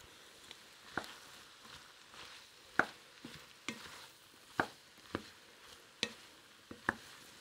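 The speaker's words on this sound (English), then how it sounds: "I'm going to fry this or continue frying this until they've released all of their moisture and most of it is driven off." Sliced mushrooms frying in a pot for beef and barley soup, a low steady sizzle under quiet, regular stirring clicks and scrapes from a utensil.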